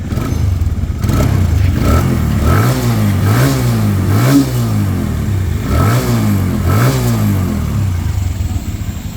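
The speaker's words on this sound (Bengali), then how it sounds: "বাইকটা স্টার্ট করব তারপরে দেখাচ্ছি দেখেন" A TVS Apache RTR 160 4V motorcycle engine kicks to life, then revs repeatedly in rising and falling bursts, loud and close, settling into a steady idle.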